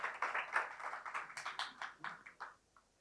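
A church congregation claps for the worship band in a quick run of soft, distinct handclap bursts that thin out and fade to silence within about three seconds, heard from some distance.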